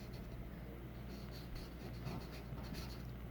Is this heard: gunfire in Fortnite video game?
no